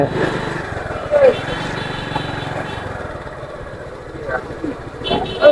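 A motorcycle engine idles steadily at a river ferry ghat, a continuous mid-pitched rumble close by, with voices and outdoor bustle mixed in and a few brief louder bumps.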